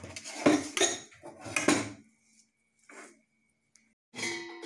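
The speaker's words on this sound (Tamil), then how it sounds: "நம்ம இதில் வச்சு ஒரே அளவுக்கு தட்டி விட்டுடலாம்" Wheat halwa is pressed and patted flat in a ghee-greased metal vessel, giving a series of close clinks and scrapes of a utensil against the pot, with short pauses between them.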